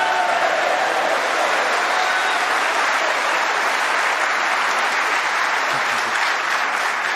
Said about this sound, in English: Great reaction from the crowd.